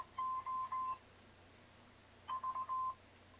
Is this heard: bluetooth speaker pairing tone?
yes